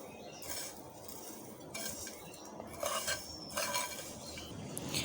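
A spoon clinks against a bowl while mixing fried vermicelli into cold milk, with soft repeated scrapes and taps in a quiet kitchen.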